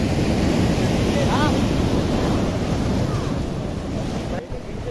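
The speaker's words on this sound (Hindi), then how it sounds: "तो इसके नीचे से समुंदर का लहर जा रहा है" Sea waves surge beneath a natural rock arch on the Vizag coast, a steady loud roar of surf and churning water mixed with gusty wind buffeting the microphone.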